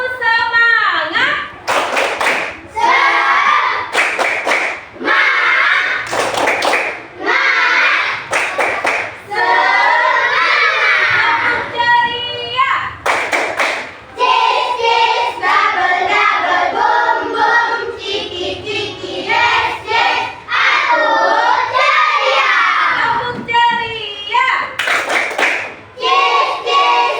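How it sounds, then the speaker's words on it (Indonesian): Children in a classroom performing a rhythmic spirit clap chant, bursts of loud hand claps in patterned rhythm alternating with shouted chanting voices, close and energetic throughout. "Tepuk semangat."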